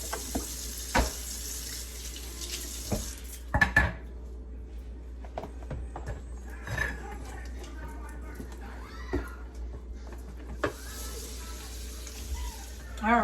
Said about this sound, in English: we need to rinse the cabbage off